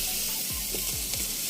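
Shark pieces hitting a hot pan already holding onions, tomatoes and fish masala spices, giving a loud, steady close sizzle with a few soft scraping stirs, no voices.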